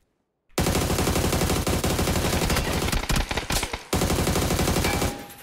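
Sustained automatic gunfire in the video game PUBG, a rapid rattling stream of shots that runs nearly unbroken for several seconds, briefly breaks up into stuttering bursts, then resumes, loud and close.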